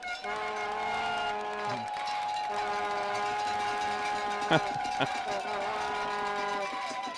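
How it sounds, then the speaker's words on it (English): Loud, sustained air horn blasts drone continuously over a noisy stadium crowd at a high school football game, with a couple of sharper bursts cutting through near the end. "They got the air horns out now, man."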